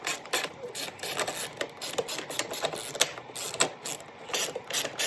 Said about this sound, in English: your long extension and ratchet and socket. So you go ahead and pull that one off